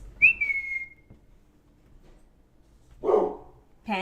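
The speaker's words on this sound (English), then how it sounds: "There goes my dogs." Dogs bark in a short burst at close range after a high whistle, then a lull, then another bark and a yip a few seconds later.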